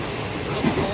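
Inside a moving passenger train, a steady rolling rumble of wheels on rails runs throughout, with people talking nearby over the noise.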